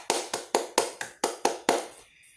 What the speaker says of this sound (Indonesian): Ayo kita beri tepuk tangan untuk Raisa.